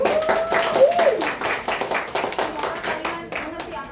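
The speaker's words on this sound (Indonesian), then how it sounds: "Tepuk tangan untuk pembelajaran." A classroom group claps steadily for several seconds, the sharp hand claps continuous and fairly loud, with a voice briefly audible at the start.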